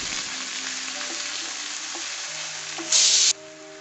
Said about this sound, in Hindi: अब हम डालेंगे अपने प्याज, ये भी मैंने ग्रेट किया हुआ डाला है, give it a good stir